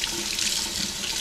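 Hot water gushing steadily from a tap at an off-grid home, a close, continuous broadband rush with no break and no talking.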